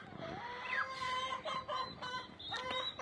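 Several hens cluck and chatter in short, uneven bursts close by, with a thin higher call rising briefly near the start.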